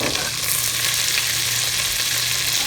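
Jeera and green chilies frying in hot oil in a pan, a dense continuous sizzle with a faint low hum beneath, steady and close throughout.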